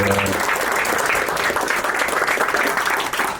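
An audience bursts into loud, dense applause and cheering for a performer, a close, sustained wash of clapping with shouts mixed in, following a brief moment of sound at the very start.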